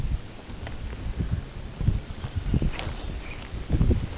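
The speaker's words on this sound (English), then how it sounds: "No, it's sleet. That is sleet. Full sleet." Sleet falls steadily outdoors at a cold lake, making a dense, hissing patter on surfaces with gusty low rumbles of wind underneath.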